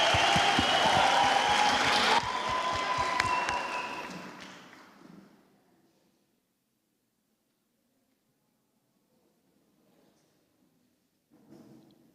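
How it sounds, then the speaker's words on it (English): Audience applause before a live performance, dense clapping for about four seconds that fades into near silence, followed by a brief faint burst near the end. "A round of applause, ladies and gentlemen."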